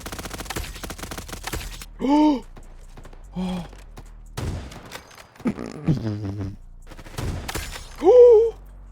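Rapid gunfire from a Roblox video game, a dense burst of sharp shots in the opening seconds followed by scattered later reports, mixed with a person's sighs and breathy vocal sounds.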